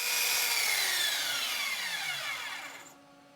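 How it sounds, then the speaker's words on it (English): A belt sander working a 1966 Ford Mustang rear quarter window part, a loud steady abrasive whir that slowly winds down and fades out at the end, no talk. "A belt sander will take off a lot of material very quickly"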